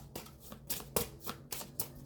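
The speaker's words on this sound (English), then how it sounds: "So I'm just going to shuffle it out real quick and see what comes out." Quiet riffling of a tarot deck being shuffled, about seven quick bursts of card flicks in an uneven rhythm, close up with no talking.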